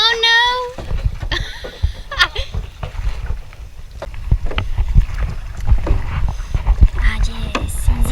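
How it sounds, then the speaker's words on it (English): A kayak paddles through a rocky tunnel in El Nido in the Philippines, with nearby splashes and paddle knocks under people talking, plus bursts of wind on the microphone. "In the tunnel, we take the kayak."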